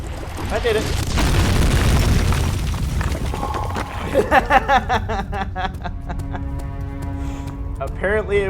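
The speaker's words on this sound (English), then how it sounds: "Apparently it was some form of pressure explosive" Pressure explosive detonating in the video game Amnesia: The Dark Descent: a heavy, rumbling boom and roar that fades into scattered clattering and debris, with game sounds and music layered over it.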